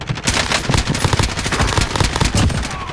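Rapid bursts of automatic gunfire from Call of Duty: Modern Warfare crackle continuously, dense and loud, with sharp repeated shots layered over one another in a game-like firefight.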